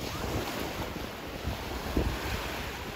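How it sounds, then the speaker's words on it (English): Ocean surf breaks steadily on a quiet St. George Island beach in Florida, a continuous close wash of waves with gusty wind buffeting the microphone and no voices. "Wave action starting to pick up."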